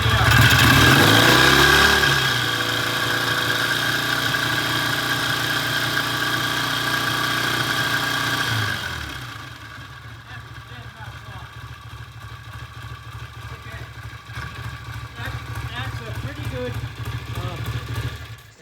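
BSA motorcycle engine running in a shop, loud at first with a few revs, then settling into a steady idle that fades slightly and gradually rises again, with occasional talk over it.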